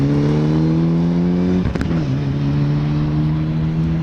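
A Vauxhall rally car engine roars steadily nearby at the Lombard Rally at Weston Park, its pitch dipping briefly mid-clip before droning on at a constant loud level.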